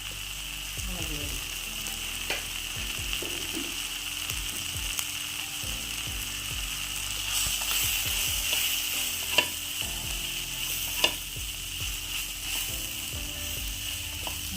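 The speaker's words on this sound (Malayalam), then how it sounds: "നന്നായിട്ട് ഇളക്കി കൊടുക്കും നമ്മുടെ കൂണ്" Mushrooms sizzle steadily in a hot pan while a spoon scrapes and stirs them in frequent short strokes, with a few sharper clacks against the pan.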